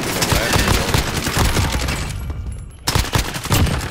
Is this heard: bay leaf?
no